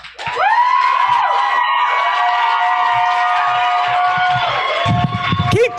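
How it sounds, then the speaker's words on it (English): An audience at a Berkeley poetry slam cheers and whoops for slam poet Ashia Ajani, a loud, sustained crowd roar with high shouted voices that carries on for several seconds. "Keep that round of applause going for Ashia."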